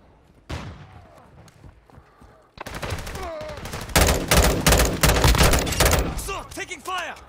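Gunfire crackles through hallways in Call of Duty: Modern Warfare II, a single shot first, then rapid bursts and fusillades that build loud and close, with brief voice chatter mixed in.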